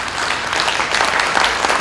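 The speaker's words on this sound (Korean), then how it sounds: "격려의 박수 한번 주시죠." A church audience breaks into warm applause for a junior pastor, dense steady clapping from many hands filling the short moment.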